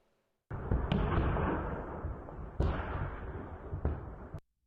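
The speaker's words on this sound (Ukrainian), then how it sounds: "В ніч проти суботи росіяни скидають на місто заборонену зброю, фосфорні боєприпаси." Continuous dense crackling roar of distant night shelling with phosphorus munitions on Bakhmut, broken by a few sharp bangs, steady and loud for several seconds before cutting off.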